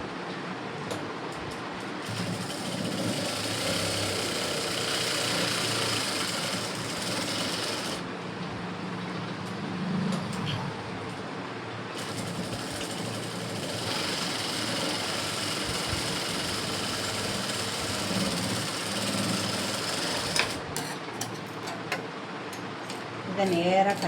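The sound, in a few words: sewing machine stitching blouse fabric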